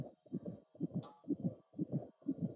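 Steady heartbeat from the horror video game Amnesia: Rebirth, six paired low thumps in an even rhythm, loud and close, with no talk over it.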